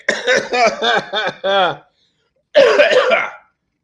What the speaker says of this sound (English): I have this really irritating cough